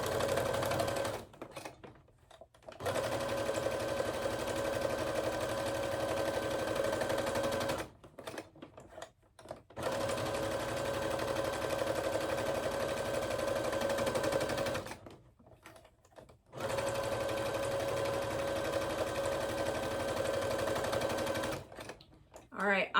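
A Brother SE600 sewing machine runs after deep cleaning and oiling, with steady, rapid mechanical stitching in three long bursts separated by brief pauses, close and fairly loud.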